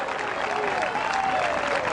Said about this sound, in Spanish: Démosle un aplauso grande, grande, grande, alabanza, Señor